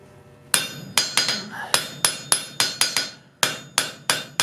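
A hammer strikes hot steel on an anvil while forging a flux spoon, with about a dozen sharp, ringing close blows in a steady rhythm and a brief gap near the end.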